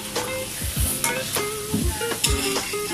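Bihon noodles being stirred in a hot pan, with a steady sizzle and repeated scraping strokes of the utensil against the pan at an uneven rhythm.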